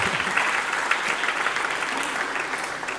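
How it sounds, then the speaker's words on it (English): An audience at a real estate meetup applauds, a steady, fairly loud wash of clapping that continues for several seconds. "Big round of applause for Liz"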